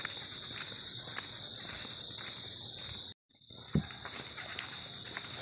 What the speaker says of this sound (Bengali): আর এদিকে ঝিঝি পোকা ডাকছে।